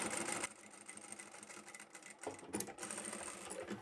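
A sewing machine back stitches a seam on an origami drawstring bag, whirring in short close bursts with brief stops and restarts as the direction changes.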